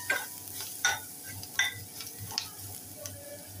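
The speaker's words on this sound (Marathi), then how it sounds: "तरी छान परतून घेऊया." Spice masala with homemade masala, garam masala and turmeric sizzles softly in a pan while a spoon scrapes and taps in an irregular rhythm as it is sautéed.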